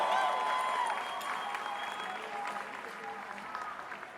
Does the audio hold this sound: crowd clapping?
yes